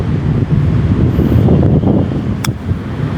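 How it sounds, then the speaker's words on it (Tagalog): Strong wind buffets the microphone on a golf course in the Philippines, a steady loud roar with a brief sharp tick near the end. "Lakas hangin."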